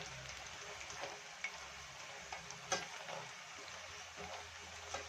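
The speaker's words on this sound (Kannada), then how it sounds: "ನೋಡಿ ಈ ಥರ ಚೆನ್ನಾಗಿ ಫ್ರೈ ಮಾಡ್ಕೊಳ್ಳಿ ನೋಡಿ" Dough pieces frying in hot oil for traditional appe payasa, a steady close sizzle and bubbling crackle running throughout with occasional louder pops, no talking.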